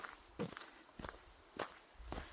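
Four distinct footsteps crunch one by one at a slow, careful pace down a muddy, rocky mountain path in snowy rain, close to the microphone with quiet gaps between steps.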